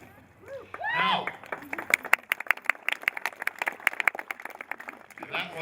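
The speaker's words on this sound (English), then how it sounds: "that was the Friends of Dana applauding the Friends of Remington" A small audience at a memorial for the racehorse Seabiscuit, held at a museum, breaks into scattered, sharp hand claps that build to a brisk patter for several seconds, with speaking voices just before and after.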